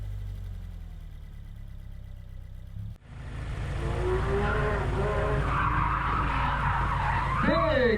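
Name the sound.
car spinning out with tires skidding at autocross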